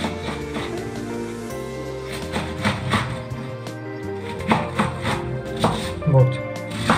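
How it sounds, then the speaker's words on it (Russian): Repeated knife chops through cabbage on a cutting board, an uneven run of dull thuds at close range, with some faint background sound. "И нарезаю на шашки."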